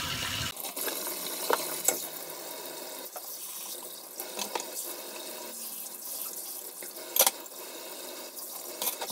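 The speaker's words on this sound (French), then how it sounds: "Je vais faire ma petite vaisselle avec vous en attendant." Dishes being washed by hand in a kitchen sink under a running tap, a steady wash of water with occasional clinks and splashes throughout, fairly close and moderate in level, with no talking.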